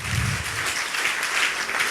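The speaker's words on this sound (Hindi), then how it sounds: "श्री वकील सर के लिए एक जोरदार ताली" Audience at an event applauding a guest called Vakil, a brief, dense round of clapping that holds steady and loud for about two seconds.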